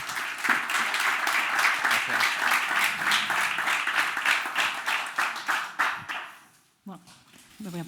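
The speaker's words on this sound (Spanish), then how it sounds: "os pido un aplauso para el proyecto CIB" Audience applause for the Ceibe project at a gastronomy talk, many hands clapping loudly and evenly for several seconds before fading out, followed by faint handling noises.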